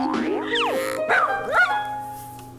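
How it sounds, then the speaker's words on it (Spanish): A goofy cartoon dog bark, used as a sound effect in a logo animation, comes as a few springy, bouncing yips and barks. They are loud and close and sound in quick succession. "Me parecía un efecto de sonido pues divertido, un ladrido divertido"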